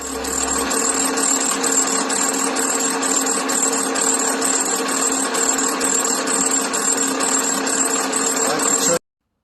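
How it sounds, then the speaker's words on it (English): A metal lathe faces the surface of a flywheel with a steady, loud mechanical drone and whine that holds even throughout, then cuts off abruptly at the end. "I will put it in the lathe and face those down and get a nice smooth face on them"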